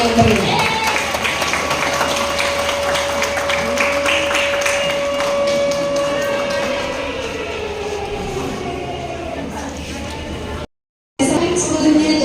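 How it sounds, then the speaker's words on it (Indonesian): Loud audience applause at a university public lecture on Islamic finance literacy, a broad sustained clapping roar with a steady tone running through it, fading near the end before a brief cut. "Boleh berikan tepuk tangan yang meriah."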